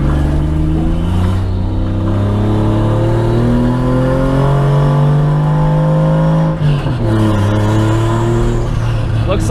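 A 1JZ-engined Chevy Nova drives and accelerates, its engine droning loud and close with rising revs that briefly drop at a gear change before climbing again.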